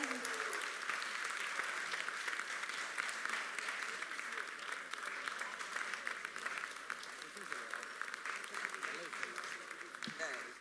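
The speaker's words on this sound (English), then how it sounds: "Let the round of applause continue for Mr. Leander Paes." Steady, dense audience applause for tennis player Leander Paes at an onstage conversation event, sustained at an even level for about ten seconds, with faint voices mixed in underneath.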